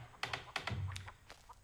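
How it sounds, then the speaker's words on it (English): Recorded chickens cluck for a pet chicken in The Texas Chainsaw Massacre game, a quick cluster of soft, close clucks and short squawks, quiet and alone. "The game's composer, Ross Tregenza, used real chickens for the audio for Nugget."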